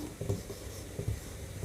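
Chalk taps and scratches in short strokes across a classroom board during a chemistry lesson, two quick bursts of writing sounds, soft and close, with no talk.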